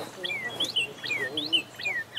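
Northern cardinal song outdoors: a run of clear, whistled phrases, several in a row with short gaps, moderately close and fairly soft against a light background.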